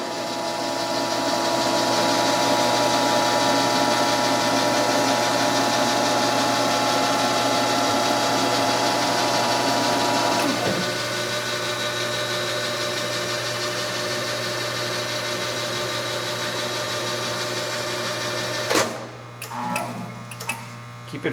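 Welding positioner with a 46-inch square faceplate runs in a shop, producing a steady, close mechanical hum that shifts slightly midway and ends with a few clunks.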